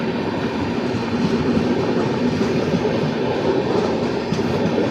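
The Amritsar Mail, a diverted passenger train running between Howrah and Amritsar, passes close by with steady rumbling and rhythmic clickety-clack of its wagons, filling the whole stretch without talk.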